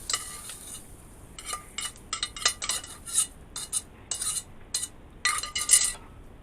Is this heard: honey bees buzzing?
no